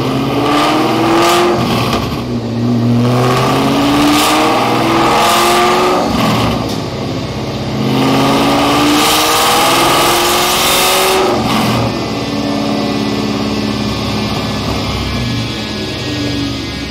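Terminator-powered Ford Mustang Cobra on a chassis dyno at a Mustang dyno day, its supercharged V8 roaring loud and close through repeated rising revs and brief lifts, a sustained mechanical wail filling the whole stretch.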